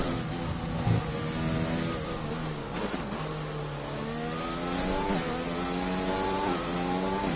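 A race car accelerating out of turn 1 after the main straight, its engine revving and climbing steadily in pitch with gear changes, loud and continuous throughout.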